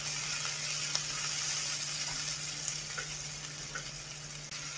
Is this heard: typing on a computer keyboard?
no